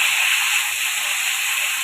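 Katla fish heads fry in hot oil, giving a loud, even, continuous hiss that holds steady from start to finish.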